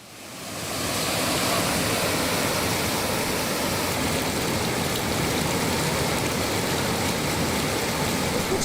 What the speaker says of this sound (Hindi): आप तस्वीरें देख रहे हैं किस तरह से कामनाथ सरोवर जो है वो ओवरफ्लो हुआ।